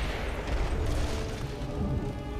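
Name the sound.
candy explosion attack in video game Costume Quest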